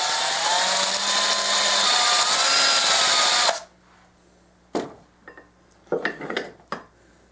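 A power tool whines loudly and steadily for about three and a half seconds while polishing a coin ring, then cuts off, followed by a few sharp metallic clinks and taps of the ring being handled.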